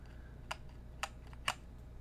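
Three separate, faint clicks come from keys pressed on a mechanical keyboard with a warped shift key, 67g Zealios V2 switches and cherry-profile PBT keycaps, spaced about half a second apart over a quiet room hum.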